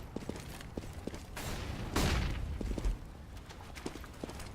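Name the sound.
Molotov in Counter-Strike: Global Offensive video game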